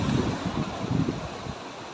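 Sea waves surge and wash ashore in rough, windy weather during a passing storm, a continuous rumbling roar of surf mixed with wind buffeting the microphone.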